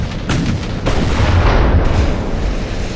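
Warship guns firing in the naval combat game Ultimate Admiral Dreadnoughts, a heavy booming salvo with rumbling low-end blasts that roll on continuously at close, loud range.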